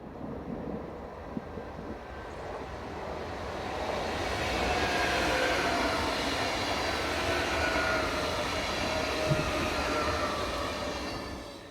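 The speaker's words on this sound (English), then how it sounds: "Semi-fast services operate using Stadler Class 445 double-deck KISS units owned by the private firm Westfalenbahn" A Stadler Class 445 double-deck KISS train runs past on the line between Braunschweig, Minden and Bielefeld, a broad continuous rumble and rail roar that swells to a steady peak and holds, heard from nearby with no voices.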